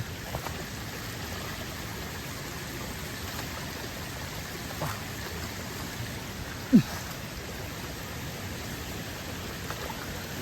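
Water flowing along an outdoor stream channel, a steady broadband rush that holds evenly throughout with one brief knock partway through and no talking.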